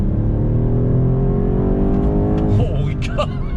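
A 2020 BMW M8 with a twin-turbo engine and all-wheel drive accelerates hard on throttle into a right-hand bend. The engine note is loud and climbs steadily in pitch, and a voice cuts in near the end.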